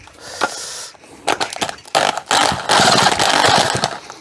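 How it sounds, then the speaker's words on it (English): Chainsaw fired up with a drill in place of its pull start, giving a burst of whirring and sputtering that catches into a loud, close, buzzing engine run with uneven bursts. "This is how you start your chainsaw without a pull start."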